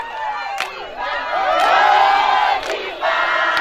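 Village crowd along the Lubumbashi-Kasenga road in Haut-Katanga, Congo, cheering, shouting and singing in welcome of the provincial governor; a dense, loud mass of voices with ululating whoops swelling and surging throughout.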